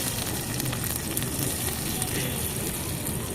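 Chopped capsicum sizzles in white oil in a kadai, a steady close hiss of frying with faint crackles throughout.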